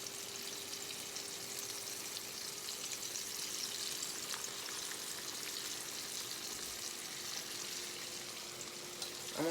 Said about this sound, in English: This is pan fried chicken, y'all.